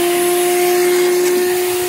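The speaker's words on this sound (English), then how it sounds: "We're gonna vacuum water." A vacuum cleaner running steadily and loudly as it sucks up water, with a constant motor whine and hiss throughout and no voices.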